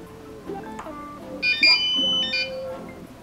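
A homemade fingerprint sensor door lock gives a short run of high electronic beeps after its stored fingerprint database is wiped, the bright tones rising over a muddier background of other tonal sounds.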